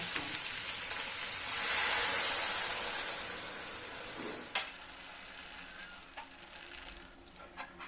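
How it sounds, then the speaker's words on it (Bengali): Water pours into a pan of frying chicken liver and sets off a loud, rushing hiss that swells and then fades, followed by quieter bubbling and a few spoon taps. "কষানো হয়ে গেছে এবার আমি জল দিয়ে দিচ্ছি"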